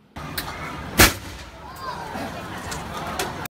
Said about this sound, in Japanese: このように爆発させた後、膨らんだお米が筒型の網の中に出てきます